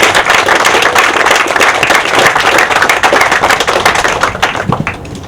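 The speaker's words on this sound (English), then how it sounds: "So a round of applause." An audience at a groundbreaking ceremony applauds, dense and steady close clapping from many hands that thins out toward the end, with no talking.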